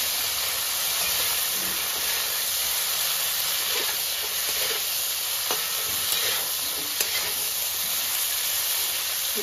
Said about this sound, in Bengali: ফুলকপিগুলো ভাজা হোক